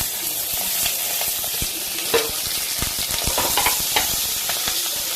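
Chopped green chili, garlic and onions frying in oil in a pan for chili prawns, with a close, continuous sizzle broken by sharp crackles and pops and occasional stirring, no voices.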